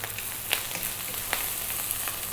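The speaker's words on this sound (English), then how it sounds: "That there is your rice frying." Carrot cumin fried rice sizzles in a hot pan, a soft, even crackle of frying with a few small pops, heard close and fairly quiet with no talking.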